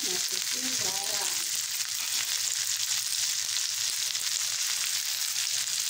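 Boiled green beans with salt stir-fry in a pan with a constant close sizzle, a few clinks and scrapes of a utensil near the start.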